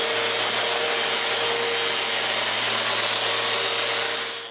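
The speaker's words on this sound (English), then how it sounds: "While doing that, I chamfer all the sharp edges with the sander." Wooden bandsaw parts getting their sharp edges chamfered with a power sander, a steady close whirring hiss with a constant hum running unbroken throughout and easing off at the very end.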